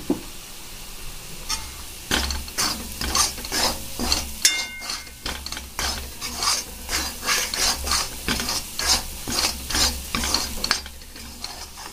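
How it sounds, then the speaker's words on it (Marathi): Masala frying in oil for shev bhaji, a steady close sizzle with repeated rhythmic scraping strokes of a spoon stirring in the pan, with no talking. "इथे आपला किती छान प्रकारे मसाला फ्राय झालेला आहे"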